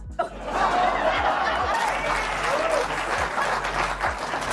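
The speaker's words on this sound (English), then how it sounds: "Terrible that you would applaud that." Studio audience at a late-night political comedy talk show bursts into loud, sustained applause mixed with laughter and scattered whoops, a dense crowd roar that holds steady throughout.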